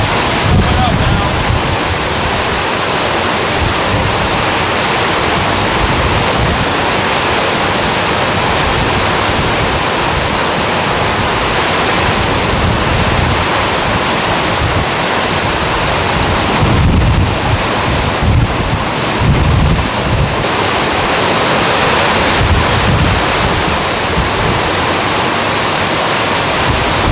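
Hurricane Katrina roaring outside as storm surge water rises, a loud, unbroken rush of wind buffeting the microphone over churning, surging water, steady for the whole stretch with occasional heavier gusts.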